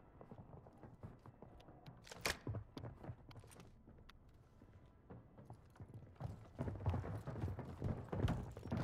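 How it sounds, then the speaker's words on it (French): Enemy soldiers trampling across the ground in the Warzone battle royale game, a run of irregular thudding footsteps that start sparse and quiet, then grow denser and louder toward the end, with no one talking. "je les entends, ils piétinent"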